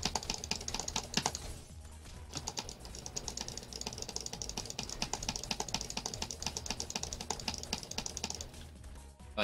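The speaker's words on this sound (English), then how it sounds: "I didn't realize how loud I was clicking, guys." Rapid computer keyboard typing and mouse clicking, a dense stream of sharp close clicks running almost continuously for several seconds, with a short pause early on and no speech.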